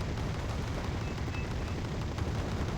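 Twin KDA autocannons in Wargame Red Dragon fire a sustained, dense barrage of rapid booming rounds that blend into a continuous loud roar for the whole stretch.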